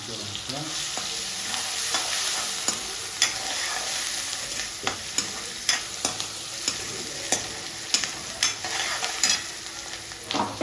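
Boiled chickpeas sizzle in hot oil tempered with asafoetida, mustard seeds, chili, tomato and onion, giving a steady close crackle broken by frequent clicks and scrapes of a stirring spoon, with no talk.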